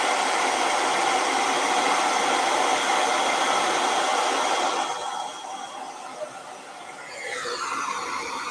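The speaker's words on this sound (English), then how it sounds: "I'm gonna hit this with a blow dryer." A blow dryer roars steadily at close range while drying freshly sprayed paint. Its whooshing hiss drops lower partway through, then picks up again.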